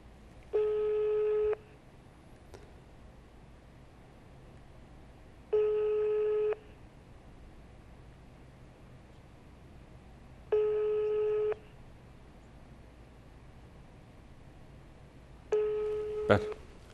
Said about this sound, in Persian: تلفن داره زنگ میزنه.